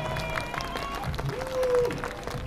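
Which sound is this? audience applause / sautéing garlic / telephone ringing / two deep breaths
audience applause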